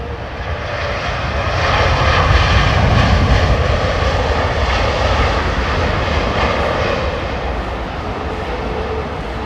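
Airliner jet engines roar steadily during a crosswind landing at London Heathrow Airport in wind and rain, a loud sustained rumble that swells and eases over several seconds with no talk.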